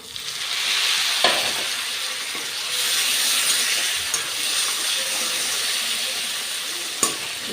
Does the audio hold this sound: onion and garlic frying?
yes